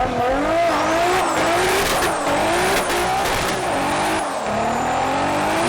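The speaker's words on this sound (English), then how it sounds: "that's a 900 horsepower super burnout" A 900 horsepower car does a super burnout, its engine roaring loud and steady throughout while tires squeal and skid in long wavering tones.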